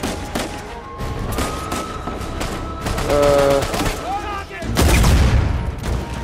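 Rapid gunfire bursts from the video game Uncharted 4, loud and repeated in fusillades with booming impacts, while a player talks excitedly over the shooting.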